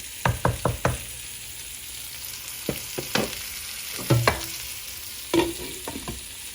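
Meatballs cook in a pan with a lid on under a low sizzle, broken by sharp knocks and scrapes of a utensil and lid, including a quick cluster of taps at the start.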